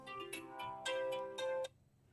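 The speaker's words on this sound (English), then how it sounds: "sorry about the phone. We're just going to have to let it ring." A telephone ringtone sounds indoors, a short melodic electronic pattern of repeated tones that cuts off abruptly, fairly faint and heard alone.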